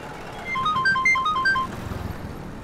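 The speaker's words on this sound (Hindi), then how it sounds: "ये रमन फोन क्यों नहीं उठा रहा?" A phone rings with a short, bright electronic melody of quick beeping notes, played once at moderate volume over faint background noise.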